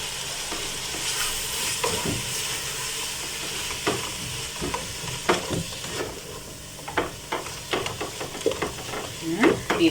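Sukuma wiki kale sizzles steadily in hot oil at close range while a utensil stirs and scrapes through it, producing repeated irregular clacks over the continuous frying hiss.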